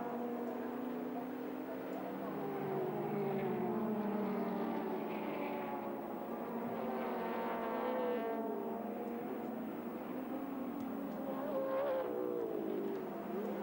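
Touring race cars at Sandown in 1984, including a big green Ford Falcon, with engine notes that rise and fall as cars pass at a distance, heard faintly and continuously.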